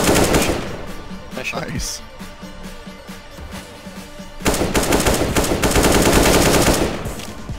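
Rapid gunfire in a CS GO match, a short burst early then a dense, loud stretch of sustained shots in the second half, with a player speaking briefly over it.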